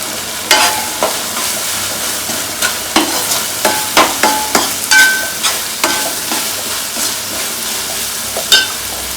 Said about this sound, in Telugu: నూనె పైకి వస్తే ఉల్లిగడ్డలు పేస్ట్ అంతా వేగినట్టు.